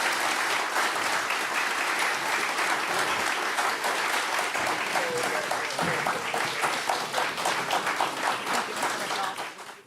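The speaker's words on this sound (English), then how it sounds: "Before the candidates leave the stage, you may all give them a round of applause." Audience applause for candidates leaving the stage at a 2018 mayoral election debate in Lockport, New York: a sustained, dense round of clapping that holds steady for about nine seconds, then fades out at the end.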